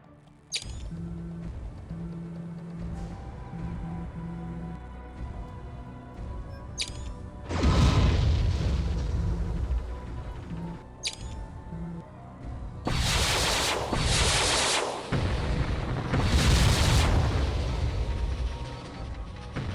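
Mech weapons fire in the video game MechWarrior 3. Heavy booming blasts and long roaring bursts of fire come over a low engine hum, with sharp clicks between the shots.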